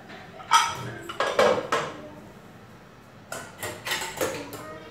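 A metal pressure cooker lid is handled and opened after cooking egg biryani, producing two bursts of close clanks and metallic scrapes separated by a short pause.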